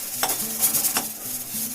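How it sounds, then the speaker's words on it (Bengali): Dry red chillies, garlic and cumin roast in a dry pan, giving a steady crackling hiss, with two sharp scraping stirs and a low hum running beneath, and no voices. "শুকনো খোলাতে এগুলিকে ভেজে নিচ্ছি"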